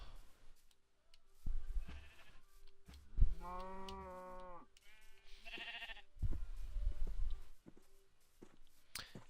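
Several harmonic sheep bleats from a video game, loud and wavering, separated by short gaps with some low thumping in between.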